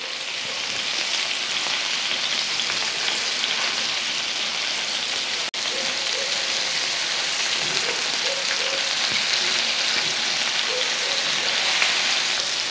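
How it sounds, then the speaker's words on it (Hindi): Meat pieces (boti) shallow frying in a pan, a steady close hiss of oil with soft crackling and popping throughout, one brief knock partway through. "ये डीप फ्राई नहीं होंगी, शैलो फ्राई होंगी ये बोटियां"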